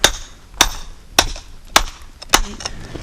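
Five sharp hammer strikes on loose rock in a pit, spaced about half a second apart, each a bright metallic crack with small rattling chips between blows.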